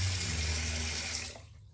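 Hot water rushes steadily from a tap into a sink beside a razor, a close, loud continuous flow that cuts off sharply near the end, with no talking.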